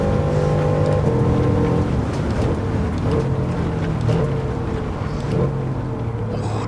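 Bugatti Veyron 16.4 with its 8-litre W12 engine at the La Sarthe circuit in a PS5 racing game, a steady gruff, rough engine drone holding at fairly even volume with slight shifts in pitch.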